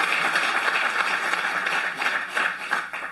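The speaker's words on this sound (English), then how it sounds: "Let's give her a round of applause." Applause from the audience at a Sutter County Board of Supervisors meeting, honoring Marni K. Sanders, a Blue Zones Healthy Living Project executive director: steady, dense clapping that fills the whole stretch at moderate volume, with no voices.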